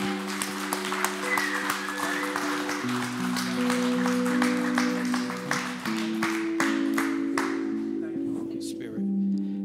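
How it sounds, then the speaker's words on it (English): A church congregation claps in praise during a service, sharp repeated hand claps ringing out over sustained organ or keyboard chords, with scattered voices mixed in. "give God a hand clap of praise"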